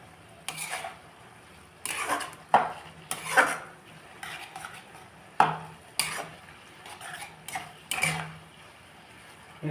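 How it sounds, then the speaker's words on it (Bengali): A spatula scrapes and stirs in a pan after tomato paste goes in for Malabar prawns, giving irregular clinks and scraping strokes over a faint sizzle, with no talking. "এরপর আমি টমেটো বাটাটা দিয়ে দিচ্ছি।"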